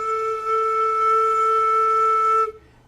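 A flute headjoint with a hand covering its end gives a single low, steady, pure tone, loud and near, sustained for a couple of seconds before cutting off.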